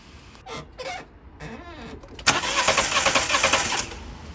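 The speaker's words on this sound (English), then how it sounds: "turn the car over just to see if we're actually getting any spark on that plug" A cheap Fiat 500 being cranked over with a spark plug held against the engine block, a few faint starter whirs followed by a louder steady cranking churn lasting a couple of seconds, close by.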